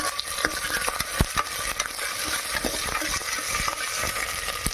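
Green chillies, ginger, garlic and lentils frying in a pan for curd bath rice, a steady close sizzle and crackle with scraping stirring strokes and sharp clinks of a utensil against the pan throughout.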